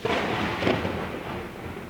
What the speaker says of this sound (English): Got some thunder sound effects happening.